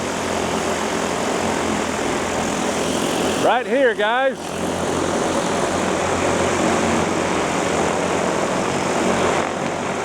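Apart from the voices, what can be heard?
DJI FlyCart 30 delivery drone propellers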